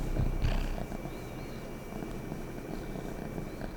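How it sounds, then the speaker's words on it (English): Yuffie the cat purrs close to the microphone, a low continuous rumbling flutter, steady and soft with a slightly louder start. "Can you hear her purring?"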